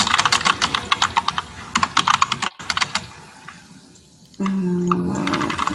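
A computer keyboard clatters in fast, close bursts of keystrokes, pauses briefly, then resumes, before a steady running-water sound takes over near the end.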